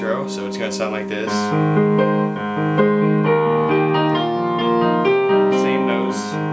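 Solo piano repeats the bouncy intro of a song, steady chords and melody played close and loud with no voices over it.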